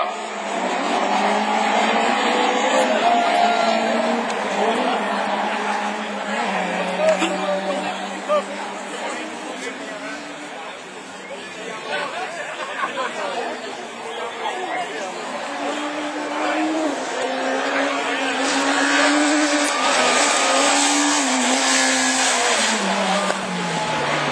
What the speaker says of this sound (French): Dans les roues de Guérin, c'est la première course de rallycross avec la C2 du team des Landes.